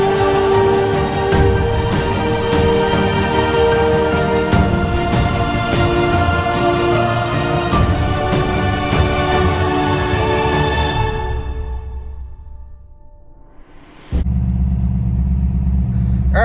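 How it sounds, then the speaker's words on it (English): A 1987 Pontiac Firebird Formula engine running, with a steady loud rumble that fades and drops away, then returns abruptly near the end, no speech. "Alright, so got the Firebird running this year."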